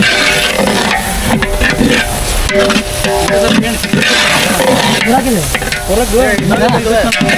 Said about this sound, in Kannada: ಎಣ್ಣೆಯಲ್ಲಿ ಚೆನ್ನಾಗಿ ಫ್ರೈ ಆಗಬೇಕು